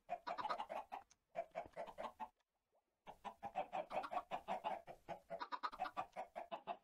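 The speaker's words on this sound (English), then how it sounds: "as you can hear and seen, I have decided to build my own little chicken farm down here" Chickens clucking on a farm built in a Minecraft-style game, dense overlapping clucks and squawks in continuous bursts with a brief silent gap, close and alone.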